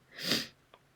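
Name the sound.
sneeze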